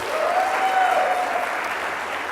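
A conference audience at a live leadership event claps together in a full, steady burst of applause, loud and even throughout, with a faint tonal whistle riding briefly over the clapping.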